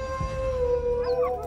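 Wolves howl in a long, steady wavering tone that holds through the whole stretch, with a second voice rising and sliding above it near the end; loud and close, no talk.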